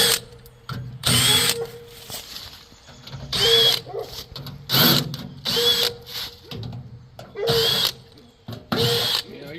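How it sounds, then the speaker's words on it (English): A power drill backs screws out of the panel of an American Standard gas package unit, whirring in short loud bursts separated by pauses, with clicks and ratcheting between runs. "I'm going to take these caps off, and then I'm going to start taking all these screws out"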